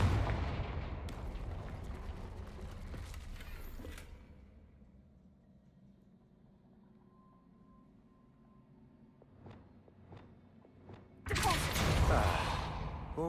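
A Confringo blasting spell in the Hogwarts Legacy video game bursts loudly with a rumbling, crackling explosion that fades into a quiet stretch, then a second heavy blast erupts near the end.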